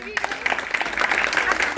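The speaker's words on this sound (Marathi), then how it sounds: "सगळ्यांनी टाळ्या वाजवा" At a Selfie with Navdurga contest prize announcement, an audience breaks into lively, dense clapping for the children's category winner, close and bright, building steadily through the short burst with voices mixed in.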